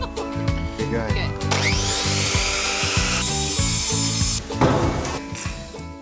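Salvaged wood board being cut with a power saw, a steady loud grinding whine running for several seconds with a rising sweep, over a busy clattering workshop background.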